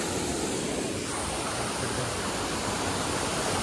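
A waterfall near Gangtok gives a steady, close, broadband rush of falling water that stays even throughout, with no voices over it.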